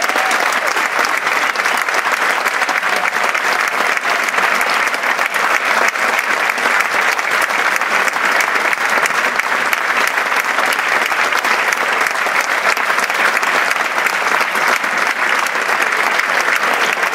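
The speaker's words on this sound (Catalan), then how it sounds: "aplaudiment per l'Escola de Dansa Somnis i la seva directora, la Maite Guerrero." Sustained, dense applause from a concert audience honoring a dance school at a New Year's concert by a municipal band in a theater hall, steady and loud throughout with no talk over it.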